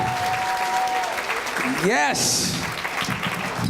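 An audience applauds a comedy act, Half & Half, at Laugh Out Lepka's Comedy, with dense, steady clapping filling the whole stretch while a voice speaks over it and a brief whistling tone rises and falls.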